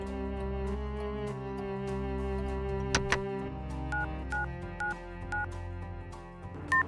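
Cartoon telephone dialing: a series of short, clipped dial tones and beeps in quick succession over a steady sustained musical hum, with a couple of sharper clicks partway through and a final brighter tone at the end.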